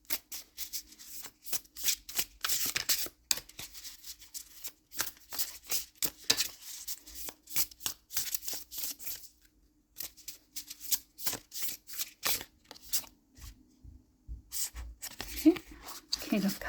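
Tarot cards being shuffled and drawn, heard as rapid, close riffling and snapping bursts in quick clusters with brief pauses between them, over a faint low voice.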